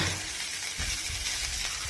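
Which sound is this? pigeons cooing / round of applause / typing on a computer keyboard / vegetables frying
vegetables frying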